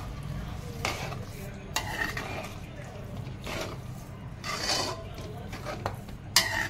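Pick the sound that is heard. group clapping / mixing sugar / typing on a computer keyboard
mixing sugar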